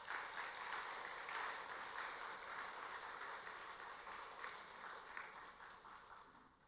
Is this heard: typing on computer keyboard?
no